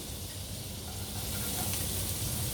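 Shallots sizzle in butter in a pan, a soft, even frying hiss heard close up and alone for a couple of seconds.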